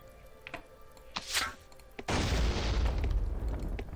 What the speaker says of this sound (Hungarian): mit tud csinálni most velem egy robbanó hordó